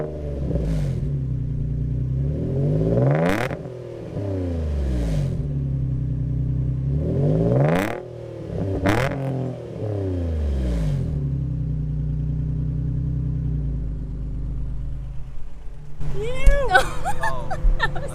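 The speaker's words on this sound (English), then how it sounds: "I can show you guys what my car sounds like with the straight pipe Motordyne R pipes as well as the HKS replica exhaust." Infiniti G35 engine fitted with Motordyne straight pipes and an HKS replica exhaust, revved several times in sharp, rising blips between a rumbling idle, loud and close, with people talking near the end.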